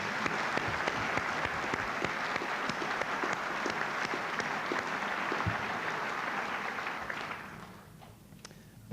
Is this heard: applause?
yes